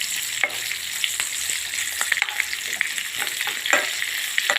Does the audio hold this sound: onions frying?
yes